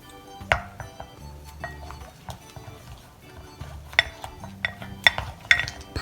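A spoon clinks and scrapes as it stirs slime in a container, giving a series of irregular sharp taps and wet clicks that stand alone with no voices.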